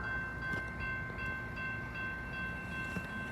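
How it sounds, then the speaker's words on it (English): An inbound train passes through LaVergne station near the Ridgeland Avenue crossing in Berwyn, Illinois, without stopping: a steady, loud rolling rumble with a sustained tonal whine held throughout. "The next inbound train approaching your station will not stop."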